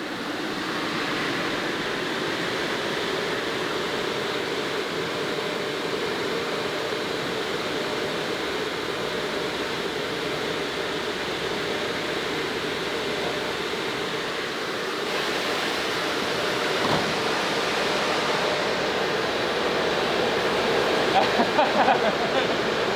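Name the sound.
radiator cooling fans running, pulling in air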